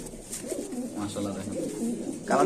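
Sirazi pigeons coo softly at close range in short rounded phrases, with a voice briefly speaking among them.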